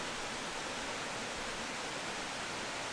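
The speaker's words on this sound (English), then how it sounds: "I'm looking right at a small waterfall." A small waterfall in the mountains along the Cataloochee Divide, heard as a faint, constant broadband rush of flowing water with no change in level and no voices.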